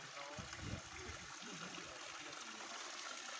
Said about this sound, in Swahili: Maji ni warm moto kabisa, inatoka juu.